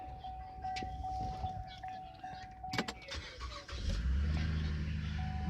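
A used budget car's engine cranks and catches about three seconds in, then settles into a steady, loud idle with a low rumble, following a faint electronic tone and some clicks.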